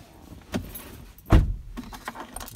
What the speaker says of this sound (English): you do get two keys with your fob